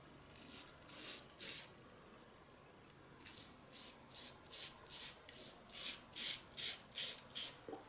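A razor shaving two days of stubble with an OSP Barbershop Combo and soap gives close, dry rasping strokes, a few at first, then a faster rhythmic run of scraping passes after a short pause.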